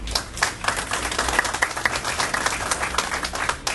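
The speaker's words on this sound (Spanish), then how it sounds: "para quien pedimos un fuerte aplauso" Audience applause at a press conference in Trujillo, brisk dense clapping from a room of people, steady and close, lasting the whole stretch.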